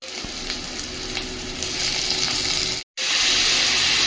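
Tomatoes for a mango tomato rasam go into a hot pan with green chillies and sizzle steadily up close; the sound cuts out briefly, then returns as a louder, brighter hiss, with no talk.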